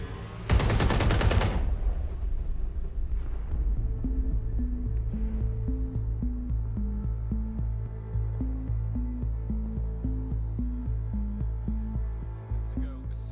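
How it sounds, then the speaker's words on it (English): In-game explosions in London from Watch Dogs: Legion, with one loud blast up front, then a steady drone and a repeating low musical pattern under the rest. "A series of explosions devastated 3 sites in London."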